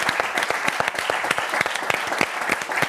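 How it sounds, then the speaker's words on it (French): A studio audience on a French football television show applauds, with crisp, rapid individual claps overlapping in a lively burst that carries on throughout. "Vous pouvez l'applaudir."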